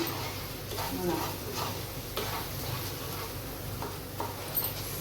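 A spatula stirs masala egg bhurji in a pan, giving soft scraping and a gentle sizzle under a steady kitchen background, with a few light clinks of the utensil.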